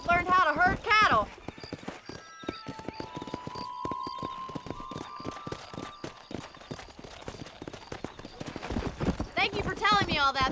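Horse hooves clip-clop steadily in the Red Dead Redemption video game, a brisk rhythmic trot of sharp close knocks over soft background music, with a brief neigh-like sound at the start and end.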